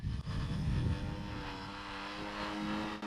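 Electric motors of a model VTOL aircraft whir steadily while it hovers, a continuous moderate drone with slight shifts in pitch and no voices.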